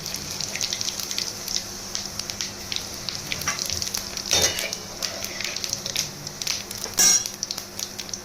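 Crushed cardamom, clove, cinnamon and cumin sizzling in hot oil in a pan: a continuous close frying hiss with small crackles and two brief louder bursts, no talk.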